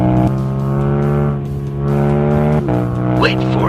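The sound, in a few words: Yamaha MT-07 motorcycle crashing off the road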